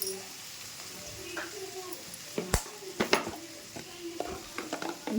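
Potatoes frying in a pan as a spoon stirs them, a soft sizzle under repeated scraping and clinking strokes of metal against the pan, close and fairly quiet.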